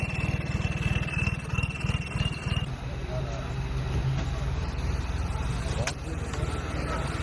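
A Swaraj 855 tractor engine throbs with a steady rapid diesel pulse while pulling a heavy load, loud and close, with people talking over it.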